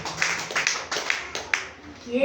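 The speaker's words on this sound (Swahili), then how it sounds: "wapigie makofi ya watoto" Children clap briefly at a church teaching on fasting, a handful of sharp, uneven claps scattered across a couple of seconds, fairly close and moderately loud with a faint murmur around them.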